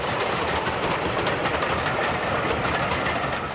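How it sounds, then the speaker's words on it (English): A Swindon-built BR Standard 4 steam locomotive hauls an assorted rake of coaches, including an ex-LNER catering vehicle, giving a steady, dense rumble of rolling stock that sounds close and continuous throughout. "The Swindon-built Standard 4, restored to its BR appearance, heads another assorted rake of coaches"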